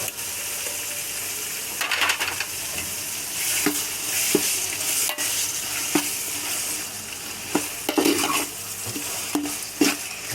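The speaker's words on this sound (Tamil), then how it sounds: "நான் நல்லா ஒரு 250 கிராம் இஞ்சி பூண்டு பேஸ்ட்டு சேர்த்துக்கிறேன்" Ginger garlic paste frying in a large pot for a four-kilo batch of chicken biryani, a loud constant sizzle punctuated by repeated metal ladle scrapes and clanks against the vessel, with no talking.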